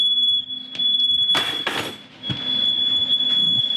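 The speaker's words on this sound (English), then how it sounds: "How are those smoke detectors still going?" A smoke alarm sounds a steady, piercing high tone, with a few sharp knocks and clatters breaking in nearby.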